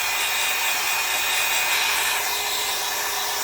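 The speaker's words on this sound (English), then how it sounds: "this hair dryer off of Amazon. It's just a Conair." A Conair hair dryer blows steadily and loudly throughout, a constant whooshing roar with a faint high whine and no talking.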